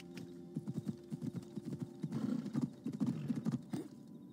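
Rhythmic hoofbeats of a horse galloping, steady and close, with a short whinny mixed in, in the video game Assassin's Creed Odyssey.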